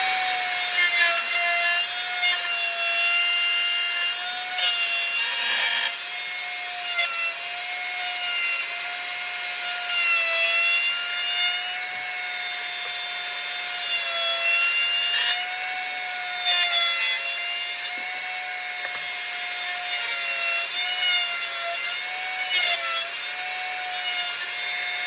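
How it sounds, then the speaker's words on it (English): A router with a 5/16 round-over bit cuts pink ivory wood knife scales, giving a steady, loud high-pitched whine with a rasping cut that holds for the whole stretch, and no talking. "I'm using a 5/16 round over on this one."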